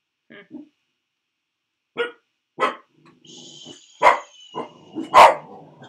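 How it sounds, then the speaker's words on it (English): A dog barks sharply several times near the mic, in spaced bursts that grow louder and come with low growling between them, against an otherwise quiet room. "What you barking at?"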